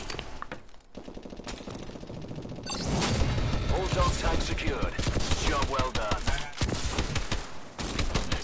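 Dense, continuous automatic gunfire from Goliath mechs rattles in Call of Duty Exo Survival, layered with rapid shots and game effects, with voices occasionally talking over it.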